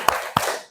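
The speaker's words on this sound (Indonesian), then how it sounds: "Kita tepuk semangat." A class of students gives a spirited rhythmic clap together, two sharp loud bursts of many hands close by, each trailing off quickly.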